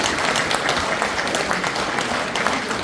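An audience at a patriotic humanities lecture claps steadily, a sustained burst of applause close by with no break for a few seconds.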